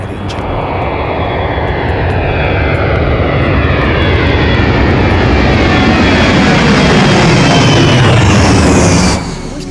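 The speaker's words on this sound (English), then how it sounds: "First time I've ever been in a military plane of that nature. You could feel the power in that engine." Military airplane engine at close range, a loud continuous roar that holds steady with slowly shifting tones for about nine seconds before cutting off sharply.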